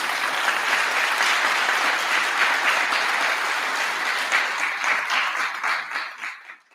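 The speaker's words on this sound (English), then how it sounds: "Can we give our dais a round of applause" A college convocation audience applauds its dais party with dense, sustained clapping that holds steady, then thins out and fades away toward the end.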